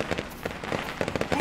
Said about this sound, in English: Ow! Firecrackers!